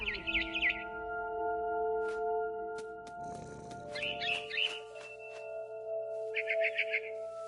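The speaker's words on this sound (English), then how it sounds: "It was a barn swallow going back to her nest." A barn swallow chirping in the video game What Remains of Edith Finch, giving short twittering bursts at the start, middle and end over a steady musical drone, with a soft rustle in between.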